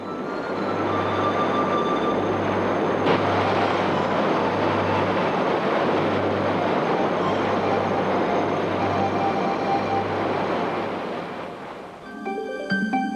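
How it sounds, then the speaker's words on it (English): Mound Geyser in Yellowstone erupts in a loud, continuous roaring rush of heavy surging water and steam, sustained for most of the time before tapering off near the end. "One of the most intriguing thermal features is Mound Geyser. Eruptions consist of a series of heavy surges."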